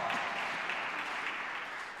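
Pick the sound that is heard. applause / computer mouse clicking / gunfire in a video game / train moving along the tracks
applause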